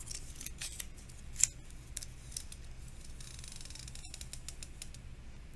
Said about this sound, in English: Taking a piece of tape.